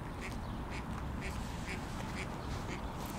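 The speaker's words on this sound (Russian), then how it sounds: "Эта уточка вон серенькая крякает." A grey duck quacks repeatedly at a pond, about six evenly spaced nasal calls over a constant outdoor background noise, moderately near and without speech.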